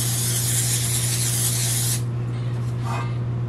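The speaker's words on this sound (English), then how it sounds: "I'm gonna spray this again." A steady, loud hiss of an aerosol cooking spray onto a paper-lined baking pan for about two seconds, then it cuts off, leaving a low hum and faint rustling.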